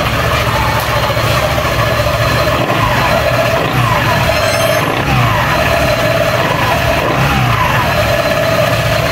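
An ATR 160 motorcycle engine, being checked after a vibration fix, runs steadily and close, with repeated revs rising over the idle drone and no talk.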